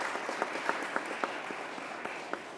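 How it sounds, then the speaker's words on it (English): A small audience at a New York governor's press briefing claps briefly, giving a few seconds of light, uneven applause with distinct individual claps audible in a room. "Let's give Mr. Phillips a round of applause"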